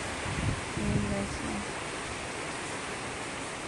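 Strong typhoon wind from Typhoon Tino rushes steadily as a broad noisy roar, with a brief faint voice near the start.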